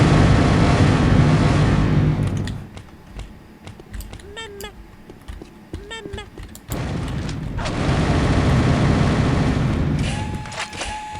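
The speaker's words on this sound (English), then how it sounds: "It bounces around, and then secondary fire detonates." Baby Nukem projectile detonating in Unreal Tournament 99: a loud, long roaring blast that fades into a quieter stretch of clicks and short pings, then a second heavy roaring burst swells and lingers before cutting off.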